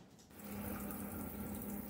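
Water pours steadily into a pot of cleaned collard greens on a stovetop, a constant rushing splash that starts after a brief quiet moment and holds at an even level, close by, with no voices.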